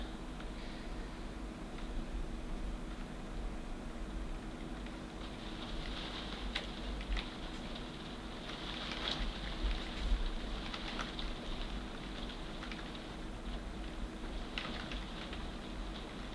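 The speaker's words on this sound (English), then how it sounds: "And it is pouring with rain." Heavy rain pours steadily outdoors, a dense, even hiss of falling water with a few louder drips and patters, continuous and without speech.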